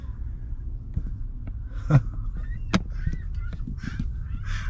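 Geese in Edmonton, Alberta, heard close by: a few scattered honks rise over a constant low rumble of background noise, with no speech.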